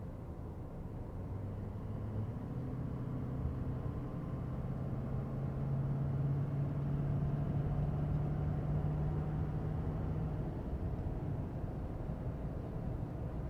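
A diesel pickup truck accelerates toward a 70 mph highway speed while towing, a steady low engine drone with rising tonal hum and road rumble heard from inside the cab, with no talk.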